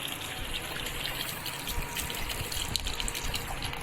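About a litre of water gushes steadily into a blender jar of loquats and sugar for loquat juice, a continuous close splashing rush with no talking.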